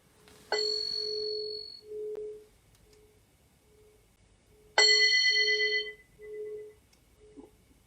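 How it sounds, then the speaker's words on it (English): Bell rung twice to close a Buddhist meditation session, each strike a clear ringing tone that decays slowly, with soft resonant pulses between the strikes in a quiet room. "So I'm just going to ring the bell just to mark the end,"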